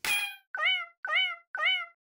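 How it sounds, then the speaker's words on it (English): BandLab's cat-meow metronome sound plays four evenly spaced meows about half a second apart, clear and close, with no voices. "So you may be a bit twisted and would like to have a cat metronome sound."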